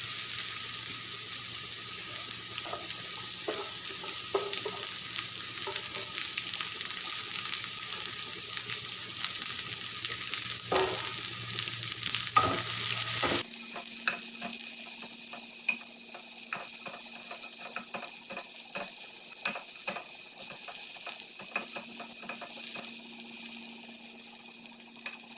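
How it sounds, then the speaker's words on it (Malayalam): Chopped Chinese potatoes (koorka) sizzle in a pan during a stir-fry, a continuous frying hiss with intermittent scraping stirs up close that changes character partway through. "നമ്മൾ അരിഞ്ഞ് വെച്ച കൂർക്ക അങ്ങോട്ട് ആഡ് ചെയ്യുന്നുണ്ട്."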